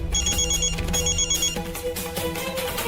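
A telephone ringtone plays a repeating electronic tune in quick, regular bursts, fairly loud and close, with no one talking over it.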